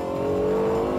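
Lexus LFA V10 engine holding a loud, steady high-pitched rev with a strong sustained tone, heard close and alone with no talk.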